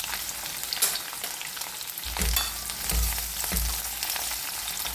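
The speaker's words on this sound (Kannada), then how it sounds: "ಸ್ವಲ್ಪ ಸಾಸಿವೆ ಆದ ನಂತರ ಈಗ ನಾನು ಈರುಳ್ಳಿ, ಮೆಣಸಿನಕಾಯಿ ಮತ್ತು ಕರಿಬೇವಿನ ಸೊಪ್ಪು ಒಟ್ಟಿಗೆ ಹಾಕ್ತಾಯಿದ್ದೀನಿ." Onion, green chili and curry leaves frying in oil after mustard seeds, a close, continuous crackling sizzle that swells as the ingredients hit the pan, with stirring scrapes and no talk.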